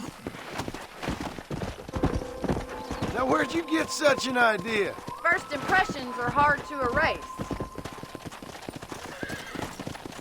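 Horse hooves clip-clop steadily beside a corral in the video game Red Dead Redemption, carrying on under a conversation between two voices, with an occasional horse snort.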